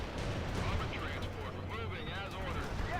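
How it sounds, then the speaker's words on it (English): Gunfire and artillery rumble in World in Conflict, a continuous wash of shots and blasts layered with a low droning engine and radio-style voices calling out over the combat. "They're firing at us."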